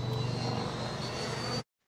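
Freewing MiG-29 Fulcrum RC model jet in an unintentional inverted spin, its electric ducted fans giving a loud, steady, broadband whine that cuts off abruptly after a second and a half.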